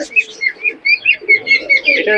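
Pigeons coo in a rapid rhythmic series at a busy pigeon market, close and loud, about a dozen pulsing calls in two seconds.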